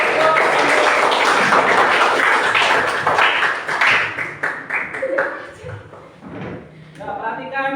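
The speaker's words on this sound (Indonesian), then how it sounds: "Kasih semangat tepuk tangan untuk kelompok." Classroom audience clapping to encourage a student group, a dense burst of many hands that thins out after about four seconds, with voices and scattered sounds taking over toward the end.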